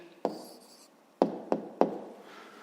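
A pen or chalk writes out the answer to a fifth-grade math exercise, heard as a brief scratch followed by four sharp taps against the writing surface, fairly close.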